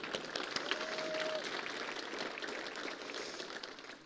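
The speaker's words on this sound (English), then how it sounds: "let's give being in person a round of applause" Audience at an in-person summit for hog farmers applauds, a dense patter of many hands clapping at moderate volume that holds steady for a few seconds before tapering slightly.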